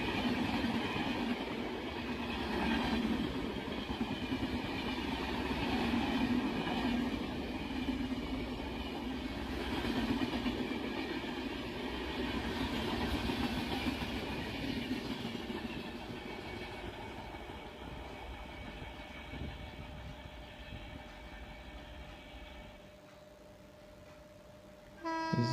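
An Indian locomotive-hauled train rumbles past at length, loud steady rolling of wagons with horn tones, fading toward the end before a sudden jump in level.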